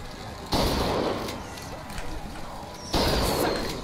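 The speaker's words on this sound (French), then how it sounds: "Sacré tir." Two loud, booming gunshots in BioShock Infinite spaced a couple of seconds apart, each with a long ringing tail, close and forceful over low game ambience.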